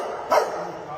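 A dog gives a single short bark or yip up close, cutting briefly through an indoor background hum.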